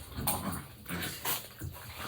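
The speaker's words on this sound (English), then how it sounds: "Oh, now the dog's going crazy." An excited indoor dog gives a few short, muffled yips and whiny barks in quick bursts, fairly faint against a hissy background.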